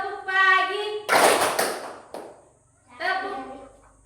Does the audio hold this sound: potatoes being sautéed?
no